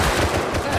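Gunfire in the Rust survival game during a fight near a Bradley tank, a dense burst of rapid shots filling the short moment at close range and loud, with no talk.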